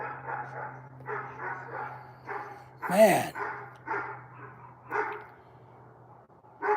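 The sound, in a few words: dog barking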